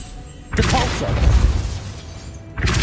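A Depulso spell in Hogwarts Legacy knocks objects back, a sudden loud impact with a shattering crash that rings and decays over two seconds, then another hit begins; a voice speaks over the start.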